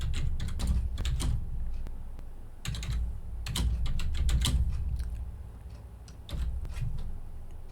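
Keys are tapped on a computer keyboard in short irregular bursts, with brief pauses between clusters of clicks, close and fairly loud with no talk.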